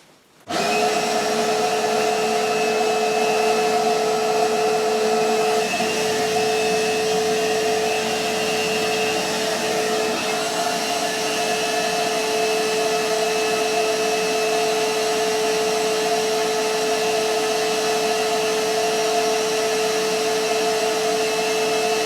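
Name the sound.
shop vac with homemade dust separator sucking up sawdust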